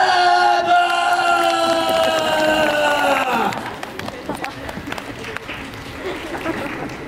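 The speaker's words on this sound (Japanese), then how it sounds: "こっちの端から向こうに向かって拍手ウェーブ開始" Audience at Universal Studios Japan's Universal Monster Live Rock and Roll Show claps in a wave along the rows. A held, ringing tone drops away, then scattered, crackling handclaps follow at moderate distance.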